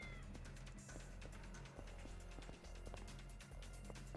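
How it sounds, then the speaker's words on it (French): Cat meowing in the video game Yakuza: Like a Dragon, faint cries over steady looping game music with no talking. "il y a un chat dans le coin, dites-moi où il est."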